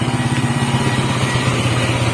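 Engine of a new Benelli 150 six-speed motorcycle, running close by with a loud, steady pulsing thrum and no speech.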